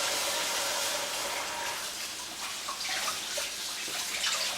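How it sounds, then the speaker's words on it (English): Cold tap water runs steadily over a ball of homemade butter being squeezed by hand, a close, continuous faucet rush with light splashes and no talking. "Now I'm gonna go run a little cold water over it right quick."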